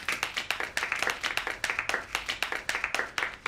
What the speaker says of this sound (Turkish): Arkadaşlar, Gülru'nun başarısı için kocaman bir alkış.